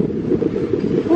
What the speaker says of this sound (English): Oh, it is windy out here today